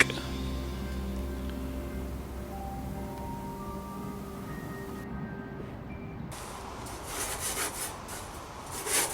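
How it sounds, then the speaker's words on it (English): Steady, rough scraping of rust from a narrowboat's steel, a continuous close rasp that carries on for several seconds and grows brighter and louder toward the end, with no one talking. "So a lot of scraping and sweeping followed"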